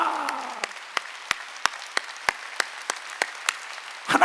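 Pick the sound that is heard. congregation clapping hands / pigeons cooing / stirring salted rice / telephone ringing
congregation clapping hands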